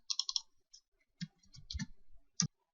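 Computer keys pressed while working in MQL4 code, a brisk cluster of light clicks followed by a few scattered key taps and a soft thump, close and quiet in a silent room.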